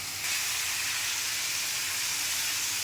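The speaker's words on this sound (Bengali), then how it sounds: "এখন একটু ভেজে নিতে হবে তেলে" Mixed vegetables with turmeric, salt and green chili frying in hot oil in a pan, giving a loud, steady sizzling hiss that stays constant from start to finish, close up with no voices.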